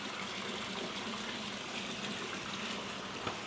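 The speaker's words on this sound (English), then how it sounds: "Beautiful water feature." Water from a courtyard water feature at a house trickles and splashes in a steady, even wash with no pauses and no voices.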